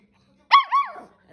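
A puppy lets out one sharp, high bark that breaks into a second, wavering yelp, all within about half a second, close by and loud against a quiet room.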